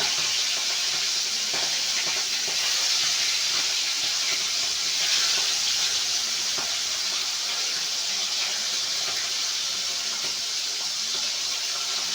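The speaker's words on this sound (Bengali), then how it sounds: "তেল গরম করার সঙ্গে সঙ্গে আমি এক এক করে চিংড়ি মাছগুলো দিয়ে দিচ্ছি" Prawns dropped one by one into hot oil in a wok, giving a steady, loud, broadband hiss and crackle that runs unbroken throughout with no talking.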